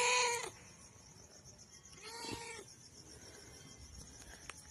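A stray cat that wandered in unannounced gives a short meow at the start and another about two seconds later, both fairly close and separated by quiet room background.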